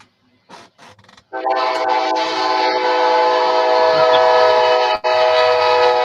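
A train rolls steadily past with a sustained whistle or horn blast, loud and continuous after a few brief knocks at the start, with the tone briefly cutting out near the end.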